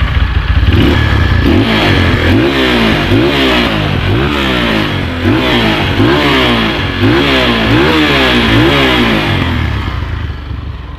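A bored-up Megapro/Verza motorcycle engine is revved repeatedly, loud and close, each throttle blip rising and falling in a regular series of roaring swells over a steady idle.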